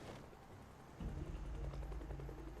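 Helicopter flying overhead in the video game Project Zomboid, a low rumbling rotor drone that grows heavier and louder partway through, steady and distant-to-near, with no voices.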